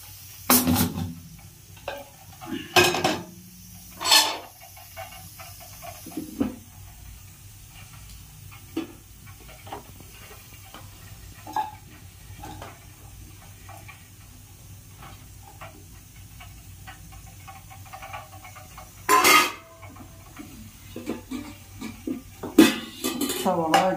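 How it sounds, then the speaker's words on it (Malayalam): Onions being sautéed for beef stew in a pan on the stove, with sharp clinks and scrapes of a spoon against the pan over a low, steady hiss, the stirring coming in scattered bursts. "ഇനി നമുക്ക് സവാള വഴറ്റാം"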